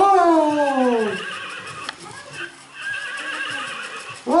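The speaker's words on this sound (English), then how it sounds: "Okay, let's have a look what this horsey does. Ooh, it's running!" A toy rocking horse gives a loud electronic whinny that falls in pitch, then quieter mechanical running sounds continue behind it.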